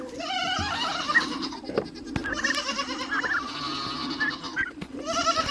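Goats bleating on a farm, several wavering calls repeating close by and fairly loud, with brief pauses between them and no talking.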